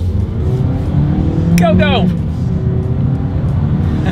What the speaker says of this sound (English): Let's do a quick little acceleration here in the 2020 Yaris, and let's see how quickly we can get this one here up to speed.